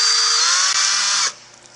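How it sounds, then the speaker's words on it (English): A power drill whines loudly and steadily up close as it bores into an Aeroloy aerogel disc, then cuts off abruptly and spins down. "here I'll demonstrate taking the Aeroloy disc and a drill"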